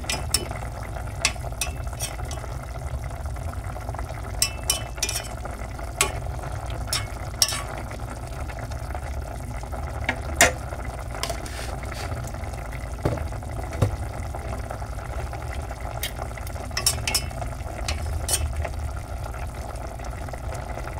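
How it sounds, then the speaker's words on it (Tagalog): Milkfish paksiw simmers in a pot, a steady soft bubbling sizzle with scattered sharp clicks and ticks throughout, fairly faint and continuous with no voices. "Saglit pa pong kulo para lutong-luto po yung ating isda."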